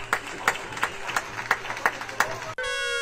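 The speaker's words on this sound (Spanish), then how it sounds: "multitud de personas salieron a sus ventanas y balcones para aplaudir con fuerza" Crowds clap from windows and balconies in tribute to public health workers, a steady rhythmic beat of claps echoing at a distance, cut off near the end by a sudden electronic tone.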